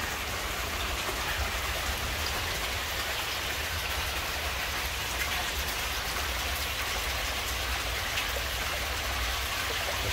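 A rain shower drumming on a polytunnel at a koi-keeping homestead, a dense, even patter that continues steadily throughout with no voices.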